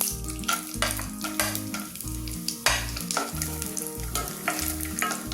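Cashew nuts fry in hot ghee over a lowered flame for a banana kaiapola snack, giving a close, steady sizzle with rhythmic stirring scrapes and spoon clinks throughout, and no voices.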